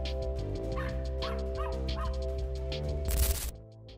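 Several dogs bark in short, repeated yips and bow-wows at close range, a rapid rhythmic run of barks that ends in a louder burst before fading out.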